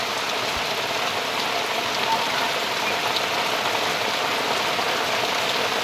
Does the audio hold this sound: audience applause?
no